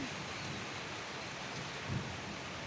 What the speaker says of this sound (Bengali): আর দেখেন বাইরে অনেক বৃষ্টি হচ্ছে